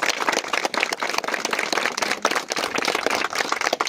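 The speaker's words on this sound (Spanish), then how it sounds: "Un aplauso muy merecido para todos" Sustained applause from a gathered audience at a community clothing-donation event in El Oro, Hidalgo, honoring the organizers; dense, steady clapping throughout with no talk over it.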